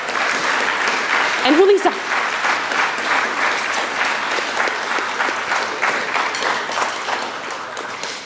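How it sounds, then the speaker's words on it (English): Sustained audience applause at a high school band concert fills the hall throughout, with a brief spoken line from the stage over the clapping. "Give them a round of applause."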